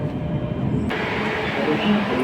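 A Dubai Metro train rumbles into a station, its low rolling noise steady throughout, with a sudden surge of brighter hiss partway as the sound opens up.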